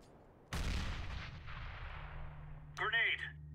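A grenade goes off in CS:GO with a sudden loud, deep blast that decays into a long rumbling tail, followed by a short electronic chirping tone.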